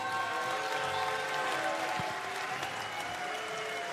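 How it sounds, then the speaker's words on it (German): At an MMA event in Hannover, a cage arena crowd applauds a Belgian middleweight fighter's entrance, a continuous roar of clapping mixed with steady tonal music or horn-like drones at a constant level. "Ihr Applaus für Arthur Stepaniak."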